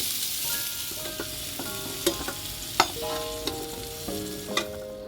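Pointed gourd fries in hot oil with a steady close sizzle and occasional stirring scrapes, while soft tonal notes play faintly in the background.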